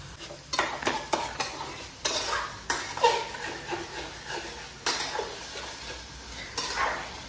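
Egg masala gravy sautéed in a pan, with repeated sharp spatula scrapes and clinks over a faint sizzle, close and uneven in rhythm, no speech.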